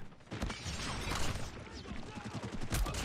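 Shotgun firing slug rounds in a video game, a burst of heavy booming shots with mechanical clatter, loud and close.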